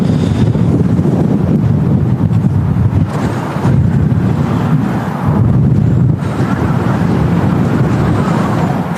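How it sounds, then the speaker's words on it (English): Strong storm wind gusting at an airport, with a steady loud roar and buffeting microphone rumble that swells and eases in waves throughout, with no talking. "Yes, it is rather breezy."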